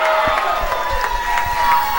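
Crowd at an IWA Productions independent wrestling show in Central Illinois, cheering and clapping, a loud, continuous roar of voices with scattered claps and shouts throughout.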